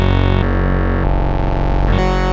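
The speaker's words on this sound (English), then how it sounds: "a third one, which is a sine wave that is FM linked to the oscillator 1" On the BA-1 soft synth, a sine-wave oscillator FM-linked to oscillator 1 produces a loud, buzzy, harmonically rich tone that changes timbre in distinct steps over a couple of seconds, with a gritty, distorted edge.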